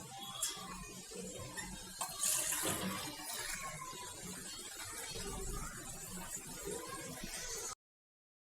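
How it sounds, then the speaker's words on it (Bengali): Water is poured into a pan of fish curry cooking with tomato, a quiet splashing trickle that runs for several seconds before stopping. "তো পানি দিয়ে দিই, পরিমাণ মতো ঝোল দিয়ে দিই।"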